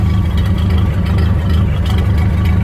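A restored 1929 Ford Model A Phaeton touring car runs at a steady idle, its engine producing a loud, close, continuous low rumble with an even mechanical throb throughout.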